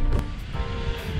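Ocean waves at Kona, Hawaii wash in as a steady, close surf roar with light wind buffeting the microphone, no speech over the short stretch.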